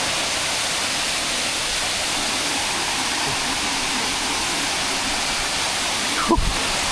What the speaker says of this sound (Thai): เสียงอาจจะดังเลยนะเพราะน้ำตกมัน มันดังมาก